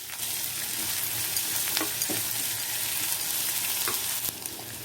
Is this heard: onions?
yes